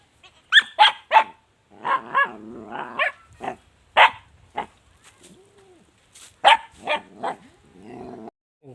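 A dog in a rural village barks in a series of sharp, close, loud barks, some in quick pairs, with a lower growling whine between bursts and brief pauses.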